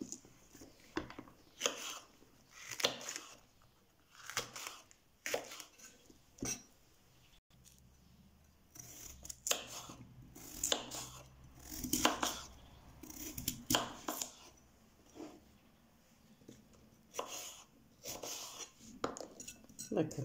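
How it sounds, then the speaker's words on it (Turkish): A knife chops peppers in a home kitchen with a steady series of quiet, sharp cuts against the board, some in quick bursts, and occasional soft speech. "Biberlerimi de bu şekilde doğruyorum."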